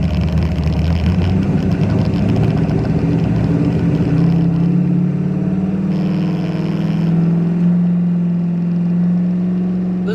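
A car runs hard on a dyno, a loud, continuous engine roar that shifts pitch as it pulls through the rpm range, close and steady with no talking.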